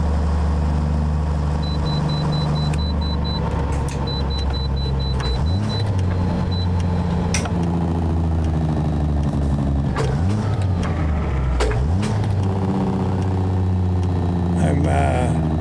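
A Peterbilt 379 truck with an N14 engine drives past on a road in American Truck Simulator, a loud continuous diesel drone with rising and falling revs and gear shifts through the pass.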